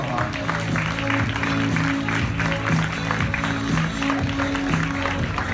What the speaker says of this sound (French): Merci à Aurélien et à Kevin en régie, qu'on peut applaudir bien fort.